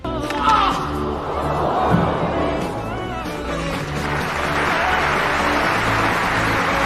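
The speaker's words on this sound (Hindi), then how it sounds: "ये देखकर सारे दर्शक उस खिलाड़ी के लिए तालियां बजाना शुरू कर देते हैं।" Sports spectators applaud a player who helped an opponent. A loud, continuous crowd roar of clapping and chatter fills the whole stretch and swells slightly toward the end.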